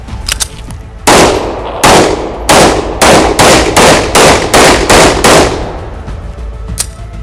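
Rapid gunfire during a special forces shooting drill: about ten sharp, loud shots in quick succession, each ringing out with a short echo before the next, then a fainter pop near the end.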